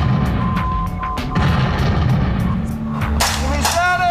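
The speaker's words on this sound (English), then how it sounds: "Keep your head down, we got artillery coming in friendly." Friendly artillery fire lands nearby during a military field exercise, with heavy booms and sharp blasts over shouted commands and constant rumbling background noise.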